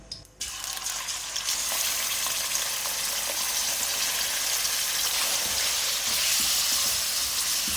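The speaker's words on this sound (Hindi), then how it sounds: "ऑयल के साथ में इतना फ्राई करूंगी कि इसका कलर चेंज हो जाए।" Boneless beef hits hot oil spiced with garam masala and bursts into a loud, steady sizzle close by, a dense crackling hiss that carries on without pause.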